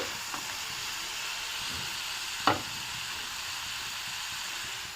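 Potatoes frying in hot oil give a steady, soft sizzle and hiss, with one brief sharper crackle partway through and no voices.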